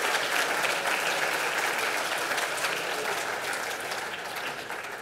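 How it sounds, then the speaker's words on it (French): Sustained applause from a large conference audience at a PHP forum keynote, a dense wash of clapping that holds steady and eases off slightly toward the end. "Vous pouvez applaudir les villes."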